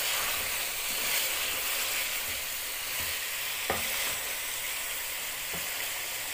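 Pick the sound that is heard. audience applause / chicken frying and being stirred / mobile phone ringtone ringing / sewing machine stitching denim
chicken frying and being stirred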